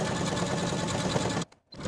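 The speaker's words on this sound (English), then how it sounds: "Then take it to your sewing machine and edge stitch close to this inner fold from top to bottom" A sewing machine runs steadily, edge stitching a shirt placket, with a close continuous whirring buzz that cuts off abruptly near the end.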